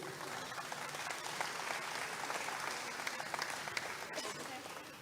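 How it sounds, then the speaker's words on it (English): An audience at a Navajo Nation presidential candidates forum applauds steadily for the candidates, a continuous wash of clapping in a hall, moderately faint and slightly distant, with a few crisper individual claps and some indistinct voices underneath. "Let's give them another round of applause here."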